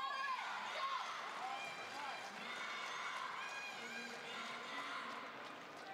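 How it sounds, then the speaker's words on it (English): Arena crowd murmur at a women's table tennis semifinal, a steady broad hum of many voices filling the hall, with commentary-style talk layered over it throughout. "You can hear some of the crowd here."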